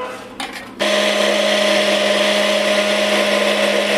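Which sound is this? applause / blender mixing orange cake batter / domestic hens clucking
blender mixing orange cake batter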